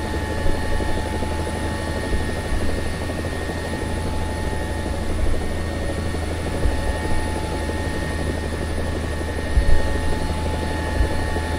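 Mi-24D attack helicopter in the War Thunder video game, flying over Syria with a constant, loud rotor and turbine drone that stays steady throughout, with no voices.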